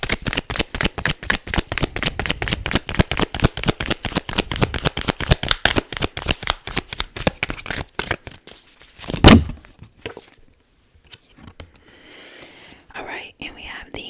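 A tarot deck shuffled close to the mic in a soft ASMR setting, a long run of rapid, regular riffling card snaps, then a louder single shuffle burst and quieter handling with faint whispering.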